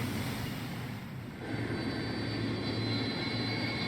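A plane drones steadily in Metal Gear Solid 3, a loud, continuous engine roar that swells slightly partway through.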